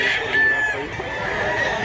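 A bullstag rooster clucks and makes short throaty calls close to the microphone, a few brief bursts over a steady background, with faint talk nearby.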